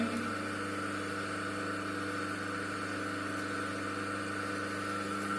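A single-phase induction motor runs at no load with a steady, even mechanical hum and drone that stays constant throughout, with no speech.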